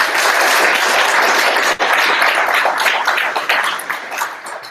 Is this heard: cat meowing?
no